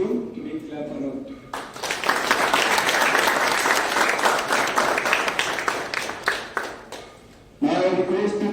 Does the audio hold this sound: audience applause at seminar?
yes